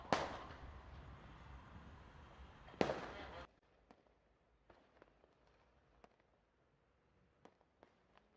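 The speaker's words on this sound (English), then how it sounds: "Some fireworks." Fireworks bursting outside a cricket ground during a hospital league match, two sharp loud blasts with decaying crackle, followed by quieter scattered pops and cracks.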